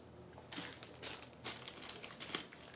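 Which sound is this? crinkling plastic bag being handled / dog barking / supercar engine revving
crinkling plastic bag being handled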